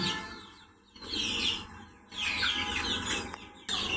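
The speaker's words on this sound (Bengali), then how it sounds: "এদের বিচরণটা আমার কাছে খুব ভালো লাগে মুরগিগুলো।" Chickens cluck and call on a chicken farm, several birds close by, with bursts of sound that rise and fall and short near-silent gaps between them.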